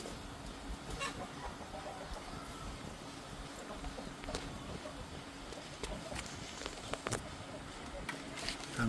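Rhode Island Red chickens and chicks let outdoors, with scattered clucks and chirps over steady farmyard background noise and occasional talk.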